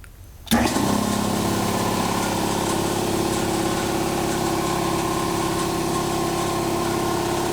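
A 60-gallon shop air compressor starts up and runs steadily, pressurizing a RapidAir Maxline system: a sudden onset followed by a loud, continuous motor and pump drone with no talking.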